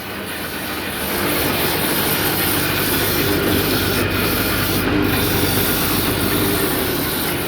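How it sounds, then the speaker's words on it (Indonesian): In a Kediri bamboo workshop, a satay skewer cutting machine drones loudly and continuously, a rough whirring rumble with faint rattling that steps up in level after about a second and then stays even, no talk over it. "Ini mesin potong lidi"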